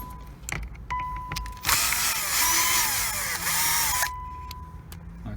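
A power drill-driver whirs for about two and a half seconds as it backs out a panel screw inside a 2017–2019 Infiniti QX60, loud and close, with quiet cabin ambience before and after.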